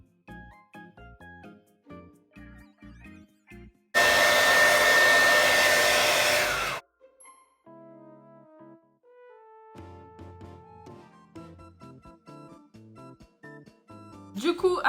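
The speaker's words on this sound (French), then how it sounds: "je vais venir prendre mon sèche-cheveux, sécher tout ça" A hair dryer blasts for about three seconds to dry paint on a makeup palette, a loud steady roar breaking into quieter background music, with a brief second burst at the very end.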